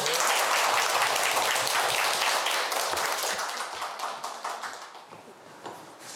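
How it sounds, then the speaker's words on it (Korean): Audience applause at a university lecture on constitutional law and local self-government, a dense wash of many hands clapping that starts loud and gradually thins and fades out. "박수 부탁드립니다."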